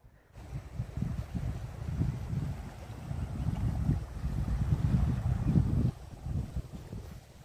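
The flooded Mechi river surging past, a deep, continuous rumbling roar with gusty wind buffeting the microphone, loud and close throughout with no voices.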